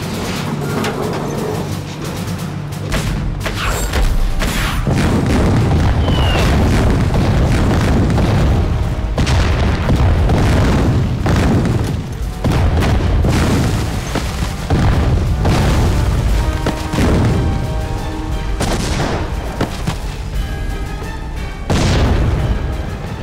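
Artillery bombardment in a war film set at Eighth Route Army positions: a dense barrage of heavy booming explosions, repeated blasts and rumbling impacts pounding continuously and loudly throughout, with debris and crackle between hits.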